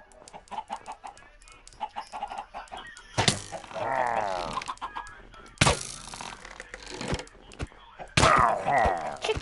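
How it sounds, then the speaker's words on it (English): Minecraft chickens cluck repeatedly in a short burst, with bright bursts of game effects and hits between them, fairly close and clear. "I have an army of chickens, and then you think you're going to win?"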